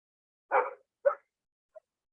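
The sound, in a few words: German shepherd dog barking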